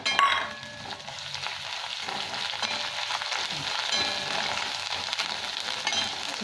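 Onions and a spoonful of ginger paste fry in a pan for a Bengali prawn curry with potato and pointed gourd, giving off a steady close sizzle and hiss with no talking.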